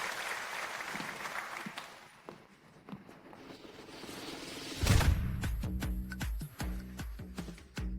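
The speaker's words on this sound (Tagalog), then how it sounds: "bigyan natin ng masigabong palakpak ang ating kalahok na si Bansa ng Ho" An audience applauds a contestant at a music competition. Scattered claps rise into a full burst of clapping midway, which then keeps going steadily at moderate distance.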